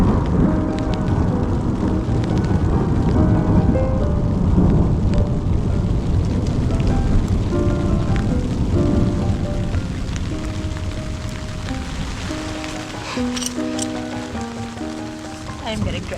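Heavy rain pours steadily in a loud, continuous wash, with faint tonal sounds appearing toward the end.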